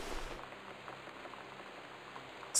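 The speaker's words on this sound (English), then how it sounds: "it's definitely just rain." Steady rain falls in the video game Gone Home, a soft, continuous hiss of drops spread evenly throughout, fairly quiet and with no voices.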